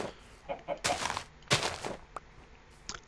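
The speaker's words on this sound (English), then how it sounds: "Chicken." A Minecraft chicken clucks in short, separate bursts, a few quick clucks coming and going over low background noise.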